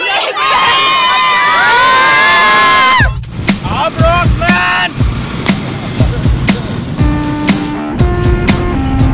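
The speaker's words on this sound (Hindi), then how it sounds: "चिल्ला क्यों रहे सब" A large crowd at a political rally with music performers shouts and cheers loudly and continuously. A sustained roar is followed by a denser mix of overlapping yells and chants.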